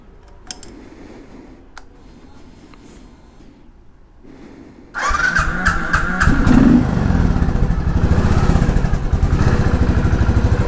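A Royal Enfield Thunderbird 500 motorcycle sits quiet at first, then its single-cylinder engine fires up halfway through and settles into a loud, close, steady thumping idle.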